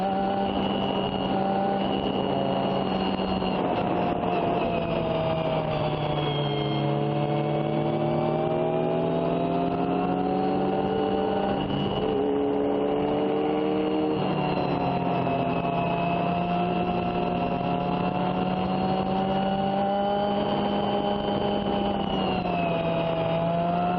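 Race car engines in a racing video game at Laguna Seca drone steadily for the whole stretch, with several engine notes rising and falling together as cars run in a close pack, loud and with no talk.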